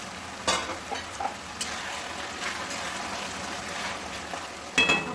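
Eggs are stirred into a frying egg curry in a pan. A continuous sizzle runs under spatula scrapes and clinks, with a louder clatter near the end.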